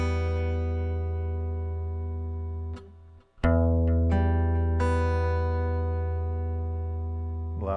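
Guitar played fingerstyle with a thumb, index and middle picking pattern, sustained ringing notes with a brief muted gap before plucked notes resume, close and clear with no talking.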